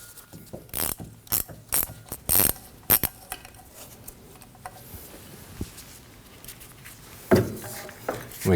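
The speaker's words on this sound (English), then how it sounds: "that'll allow me to hold that while I loosen up our 12mm nuts." A hand ratchet clicks in short bursts, pausing between strokes, as it loosens 12mm nuts on the rear drive shaft of a 2003-2006 Subaru Baja 2.5L H4, close and crisp, followed by faint tool handling.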